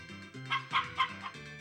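Cartoonish chicken clucks in the farming game Harvest Moon, three or four short bright calls over a steady background music tone, fairly quiet and without talk.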